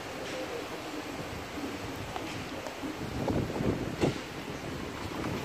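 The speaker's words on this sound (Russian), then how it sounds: "такой ветер-то не сильно приятный" Gusty wind at a Turkish five-star hotel resort, a steady broadband rush that swells louder midway with buffeting microphone gusts, heard outdoors with no one speaking.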